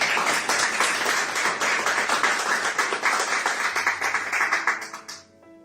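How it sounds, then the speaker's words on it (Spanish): Church congregation breaking into loud applause, many hands clapping densely for about five seconds before fading out. "Denle un fuerte aplauso."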